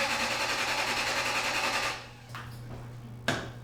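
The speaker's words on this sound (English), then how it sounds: "Make sure you plug your coil packs in or your truck will sound like this" A first-generation Toyota Tundra engine runs rough and misfiring with its coil packs unplugged, a steady buzzing drone that cuts out abruptly, followed by a couple of short clunks and a sharp knock in a garage.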